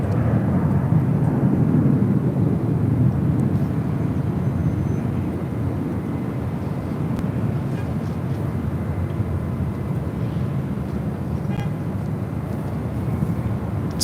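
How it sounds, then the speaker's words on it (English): A Boeing 747-400 freighter taxis at LAX toward runway 25 Left, its engines making a loud, steady, low rumbling roar that holds throughout and does not change much. "It's a 747-400 freighter. We'll be rolling down to 25 left on the south side."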